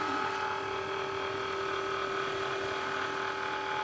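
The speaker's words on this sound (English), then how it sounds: "I need to just load my mat." An electronic cutting machine fitted with a rotary blade draws in a fabric mat loaded with felt, giving a steady, continuous motor whir with a faint high whine that holds evenly throughout, with no talking.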